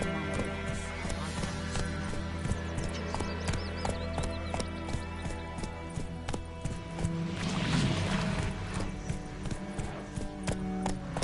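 Roach, a horse in The Witcher 3, gallops in a steady clip-clop rhythm of hooves, heard close and continuous under a layer of game music and ambience.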